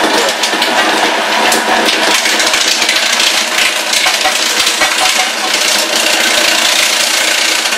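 A Ninja food processor runs loud and continuous, grinding three pounds of meat with two pounds of ice for sausage, a harsh rattling churn with clattering ice chunks throughout.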